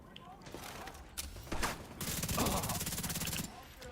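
Enemy gunfire in a video game, a sustained rapid automatic burst of shots, fairly loud and mechanical, preceded by scattered game noises, with a voice talking partway through.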